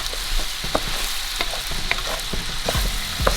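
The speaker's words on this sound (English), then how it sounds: "You're gonna keep stirring." Rice being stirred in a cooking pot, a steady scraping and shuffling with repeated spoon strokes against the bottom over a faint sizzle, continuous and close with no talking.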